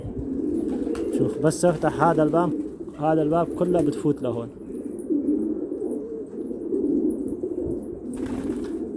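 Domestic pigeons coo nearby in repeated soft, throaty rolling phrases, with someone talking over them and some rustling around the coop.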